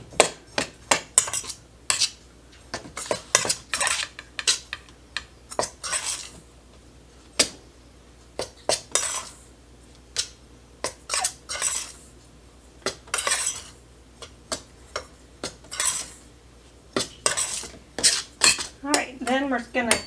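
Apple crisp ingredients mixed in a bowl with a utensil, rapid clinking and scraping strokes in irregular bursts, close and fairly loud, with brief pauses between rounds.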